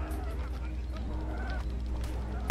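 Goose-like honking from a bird creature in the video game ARK, repeated calls over a steady in-game background hum during a territory conquest event.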